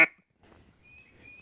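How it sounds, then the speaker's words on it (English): A duck call blown to make a quack, starting with a short, loud burst followed by quieter breathy air and a faint, thin tone, heard alone and close. "So to blow a quack like this"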